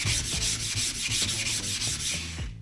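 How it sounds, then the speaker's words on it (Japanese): A wet whetstone is rubbed flat before knife sharpening, giving a loud, close, rhythmic scraping of stone on stone, about a dozen even back-and-forth strokes with no talk. "最初軽く濡らしてあげて、でまず研ぐ前に面直ししてあげましょう"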